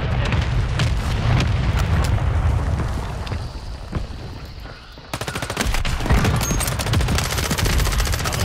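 Dense gunfire in Warzone 3, with rapid volleys of shots and booming explosions in a sustained loud barrage, a brief lull midway, then crisp repeated shots.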